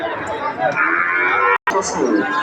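Sahiwal and other breed calves lowing at Ambari Haat cattle market in Dinajpur, moos rising over a crowd's steady chatter and nearby voices, with one brief dropout in the middle.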